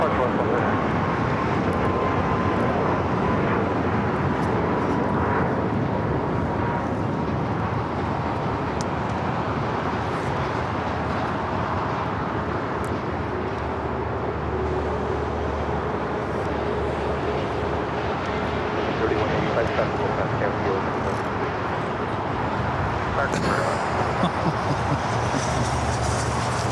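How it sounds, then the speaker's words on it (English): A United airliner taking off from runway 25 right at LAX, a loud continuous broadband engine roar holding steady throughout with a faint whine, against busy airport background. "United A380 Neo now taking off 25 right."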